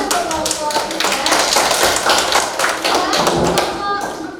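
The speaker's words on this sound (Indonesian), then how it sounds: "Tepuk tangan untuk kelompok 3." A classroom group gives applause after a group presentation, with a burst of overlapping hand claps running continuously for several seconds, fairly close and loud, thinning near the end.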